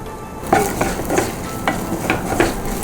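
Crushed spices and cumin seeds sautéing in a pan: a soft sizzle under repeated scraping strokes of a spatula against the metal, several clear stirs close by, no talking.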